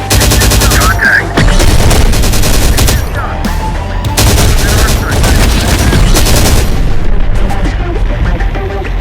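Battle gunfire in Terminator Dark Fate Defiance, with loud machine-gun bursts and heavy booming shots coming in clusters separated by short lulls, mixed with radio-style unit voice callouts.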